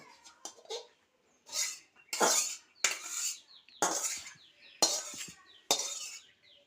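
A wok set back onto the stove while jute leaves are being cooked: a loose run of sharp metallic clanks and scrapes, close and fairly loud, with short quiet gaps between knocks and no voices.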